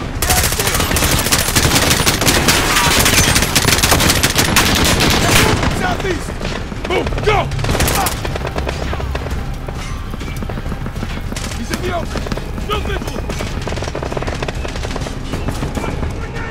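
Automatic machine gun fire from the Call of Duty: Modern Warfare video game, with sustained dense bursts over the first several seconds, then continuing battle noise and scattered shots at lower intensity throughout.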